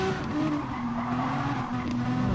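Renault Megane Trophy race car heard onboard at a circuit, a loud continuous engine drone with pitch steps down as it shifts gears, tyre and wind noise throughout, no talk.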